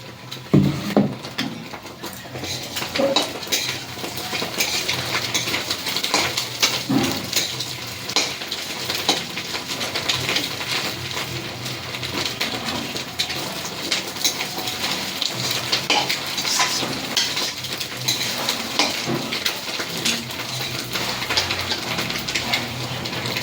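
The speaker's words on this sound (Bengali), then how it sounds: "ম্যাগিটা সম্পূর্ণ ভাজা হয়ে গেছে" Maggi noodles frying in a pan, a continuous crackling sizzle with frequent scraping clinks of a utensil stirring against metal, close and steady throughout.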